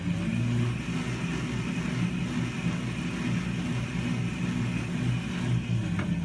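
A student-built senior design electric vehicle accelerates with the accelerator pressed and its wheels turning, giving a steady, close, continuous motor drone and whir with no talking.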